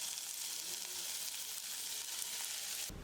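Finely chopped spinach sizzles in hot oil in a kadhai, a steady bright hiss running continuously and fairly softly, with a brief stirring clatter at the very end.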